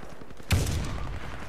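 A single loud, close gunshot from a SIG Sauer 226 pistol in a video game cracks out and then decays into a short rumbling tail.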